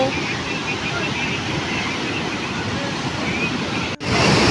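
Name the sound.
waterfall water falling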